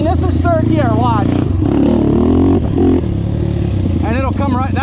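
A 2005 Honda TRX450R ATV engine revs hard in third gear, a loud, steady, buzzing single-cylinder roar that rises and falls, close by, with brief voices under it.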